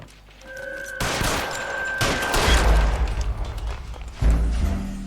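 Heavy video-game gunfire aimed at Mark Bishop: loud, dense volleys of shots that begin abruptly after a quiet second, surge again around two seconds, and end with a final booming burst.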